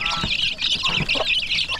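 High-pitched chicks peep continuously in a dense chorus, close and fairly loud, with a few lower clucking sounds mixed in.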